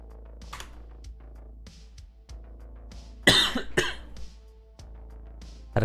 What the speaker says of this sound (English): Had a cough there.